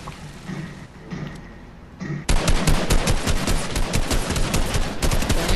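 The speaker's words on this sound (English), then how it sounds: "Oh, another bitch shooting at us." Rapid gunfire in a video game, aimed at the player, erupts loud and dense after a quieter, rumbling opening of about two seconds and keeps hammering steadily to the end.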